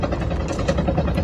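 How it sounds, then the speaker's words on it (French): A helicopter in the Call of Duty Mobile battle royale mode, coming in to land near a supply drop, gives a steady, fairly loud rotor-and-engine drone that holds without a break. "On entend un hélico. Ça va se poser au colis."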